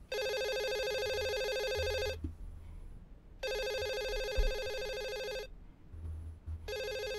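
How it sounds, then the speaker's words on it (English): A telephone rings in a video game, its electronic trill muffled as if inside a wall, repeating in long steady bursts with silent gaps between. "the phone just glitched, because it literally sounds like it's in that wall"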